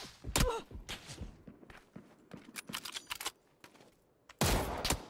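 PUBG video game gunfire, including a Mosin rifle: sharp single shots and scattered bursts between footsteps and thuds, ending in a loud close volley.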